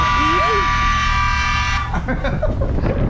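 A boat's loud, steady horn tone drones for about two seconds, then cuts off as the rumble of its Honda GX390 engine and voices take over.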